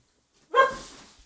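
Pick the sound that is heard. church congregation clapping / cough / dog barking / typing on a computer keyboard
dog barking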